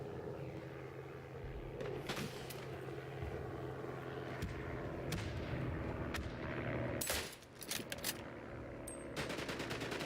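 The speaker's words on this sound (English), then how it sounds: "Now I can do some shooting" Rifle and machine-gun fire in the World War I shooter Isonzo, scattered distant shots over a low rumbling battlefield, ending with a louder close burst of rapid fire.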